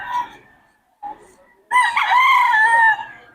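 A Golden Boy gamecock rooster crows once, loud and close, with a long drawn-out call held for over a second after a couple of short clucking sounds, with no talking over it.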